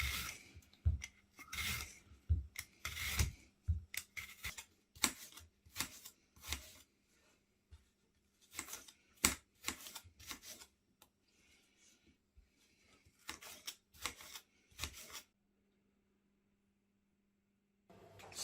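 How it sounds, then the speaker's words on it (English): Apples being peeled and chopped for Christmas pudding: irregular close scraping and rasping strokes with short knife-on-board bursts, coming in clusters and pausing, then falling quiet near the end. "So firstly, with the apples, we're going to peel these and then chop them"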